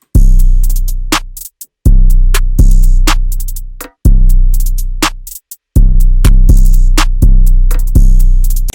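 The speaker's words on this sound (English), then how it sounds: "after that we are layering in a snare and a perc." Snare and percussion hits layered into a dark trap-style FL Studio beat, with loud sharp drum strikes and booming low sustained bass notes cutting in and out in a steady looping rhythm, no voices.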